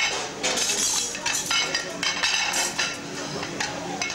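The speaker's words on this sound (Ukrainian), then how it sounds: "Шумлять мисками, стараються забезпечити нас гарною, свіжою, вимитою посудою." Dishes and bowls clatter and clink in a quick, irregular series of sharp knocks, close by as they are washed at a Christmas lunch, with faint voices underneath.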